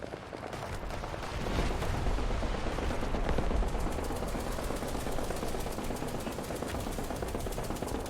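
Dense, sustained gunfire and explosive bursts from tanks in War Thunder, a loud continuous battle din of overlapping shots with no clear gaps, heard alone.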